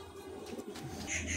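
A soft, low pigeon coo carries through quiet surroundings, a faint rounded murmur with light background noise and a few higher chirps at the end. The birds are Kolkata high-flying Teddy and Kamagar pigeons.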